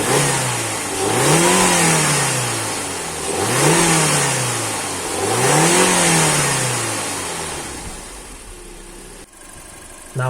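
An Audi A3 2.0 FSI with its stock air filter revs three times in even succession, each rise and fall clear and close, then settles to a quieter idle.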